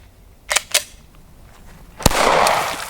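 A Glock pistol under torture testing fires a single sharp, loud gunshot outdoors, preceded by two quieter mechanical clicks, with a short rumbling tail after the shot and no talk.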